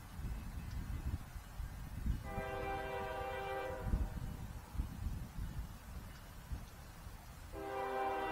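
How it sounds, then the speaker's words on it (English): A freight train rumbles past with a low continuous roar, and its horn sounds twice in long harmonic blasts, one mid-pass and another starting near the end, moderately distant. "this train that's coming right now was interesting"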